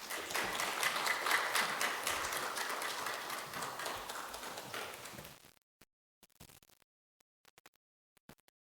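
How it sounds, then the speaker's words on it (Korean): A church congregation claps warmly to welcome a pastor, a dense round of applause that fades out after about five seconds, followed by near silence with a few scattered taps. "우리 함께 나오셔서 말씀 전하실 때 우리 뜨거운 박수로 환영하겠습니다"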